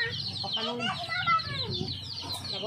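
A mother hen clucks close by in a run of short throaty calls, with some faint chatter and farmyard sounds around.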